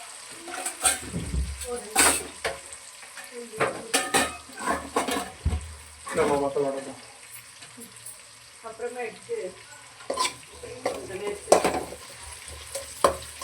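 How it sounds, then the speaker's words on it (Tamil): Ground onion and tomato masala for mutton curry sizzles in a pan while a spoon scrapes and stirs in irregular strokes, with clinks against the vessel and a steady frying hiss; a voice talks briefly. "நல்லா வதக்கிக்கலாம் பாருங்க எதுக்காக நாங்கள் ஆனியனையும் அந்த தக்காளியும் அரைச்சி போட்டுறோன்னா"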